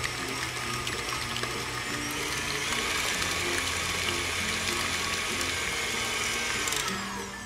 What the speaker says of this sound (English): All right, we're just gonna mix it.